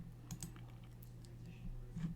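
Soft computer mouse clicks while selecting shapes in Cricut design software, a few scattered faint clicks at close range with a low steady hum underneath and no talking.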